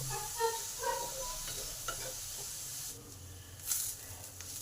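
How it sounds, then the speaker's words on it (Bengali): Onion, garlic, chilli and grated ginger sizzle in a pan, a continuous close frying hiss broken by a few stirring scrapes and a brief louder burst near the end. "এবার সব কিছুকে একটু ভালো করে লাল লাল করে ভেজে নেব"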